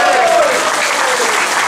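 An audience applauds a speech at a Chinese education forum, with loud, dense, steady clapping filling the hall throughout, and no voices over it.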